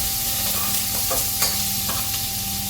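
Ginger and onion sautéing in a hot pan with a steady sizzle close by, overlaid by intermittent scraping strokes of a utensil stirring them, no talking.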